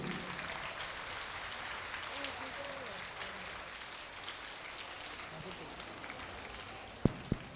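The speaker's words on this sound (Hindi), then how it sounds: "सम्मान में तालियां बजनी चाहिए।" Audience applause at an award ceremony honouring students called to the stage, a steady, even patter of clapping that continues throughout at moderate level, with a sharp knock near the end.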